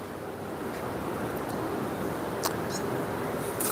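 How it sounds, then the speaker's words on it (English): Wind picks up outdoors in a yard during a tornado watch, making a steady broad rush and buffeting against the microphone that holds at an even level throughout, with a few faint clicks and no talking. "the wind's picking up"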